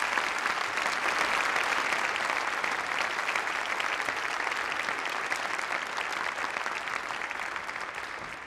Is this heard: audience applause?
yes